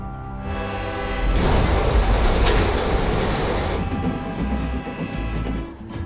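A Pullman sleeper train rolls along steadily, a broad rumble of wheels and carriages with faint rhythmic clatter, close and fairly loud throughout.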